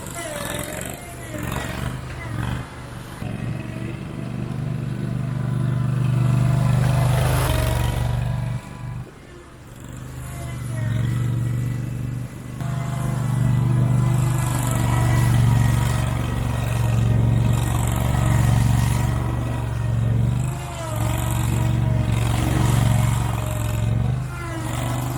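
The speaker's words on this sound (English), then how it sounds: "So this right here is the BadBoy Renegade. It's the top tier mower." A BadBoy Renegade zero-turn lawn mower engine runs steadily throughout, a low droning hum with slight variations, while someone talks over it.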